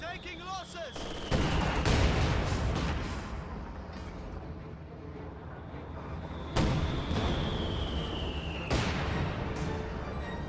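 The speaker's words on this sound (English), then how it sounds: "Mortar firing at these guards as they try to get the point captured." Mortar fire in a Company of Heroes 2 battle between Soviet and German forces, with heavy booming blasts at a few points over a dense, continuous din of gunfire and battle noise, and voices faintly underneath.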